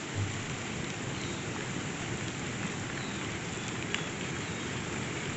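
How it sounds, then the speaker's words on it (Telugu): Heavy monsoon rain near Chitrakote waterfall, Jagdalpur, Chhattisgarh, pours down in a dense, steady roar, with no voices and no letup from start to finish. "వర్షం అయితే కనుక తగ్గేదేలే అన్నట్టుంది, మామూలుగా కురవట్లేదు."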